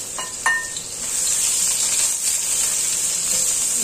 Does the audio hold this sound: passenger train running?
no